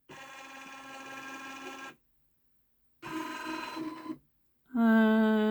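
A Janome Memory Craft 10001 embroidery machine runs its outline trace over fabric in three bursts of steady motorized whirring separated by short pauses, the last burst louder and more tonal.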